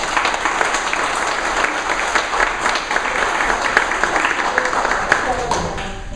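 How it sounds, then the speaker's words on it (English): A crowd applauds steadily at the grand opening of a community center pool, dense sustained clapping that fills the space at an even loudness without pause. "So please give him a round of applause."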